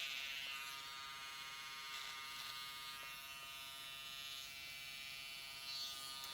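Electric hair clippers buzz steadily and softly while trimming a man's beard, a continuous close-up hum with slight shifts as the blades move across the hair.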